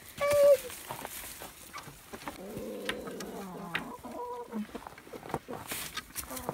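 Young hens, including pullets, cluck in a new coop beside a house, with short, scattered calls and a brief higher squawk near the start, heard under nearby talking.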